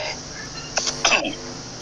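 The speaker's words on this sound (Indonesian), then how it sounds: "Sorry, batuk" A couple of short, sharp coughs burst out close by in quick succession against a quiet background.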